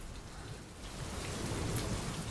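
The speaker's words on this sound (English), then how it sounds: "It's raining out here." Steady rain from the video game Metal Gear Solid 5: The Phantom Pain, a dense broadband hiss of falling drops that swells slightly louder partway through, heard alone without voices.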